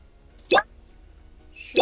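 Two short, sharp pops of a balloon-popping sound effect in a Pygame balloon pop game, roughly a second apart, each loud and crisp against a quiet background.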